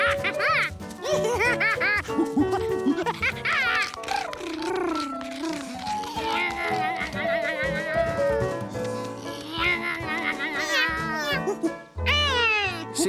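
Cartoon cat meowing repeatedly in a children's animated show, rising and falling cries over background music, close and fairly loud.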